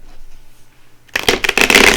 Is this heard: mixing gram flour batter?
no